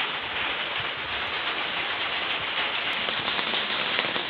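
Steady rain falls on a home garden on a rainy morning, a dense continuous hiss of drops pattering on plants and surfaces, even and close, with no voices.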